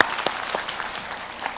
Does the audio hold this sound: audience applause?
yes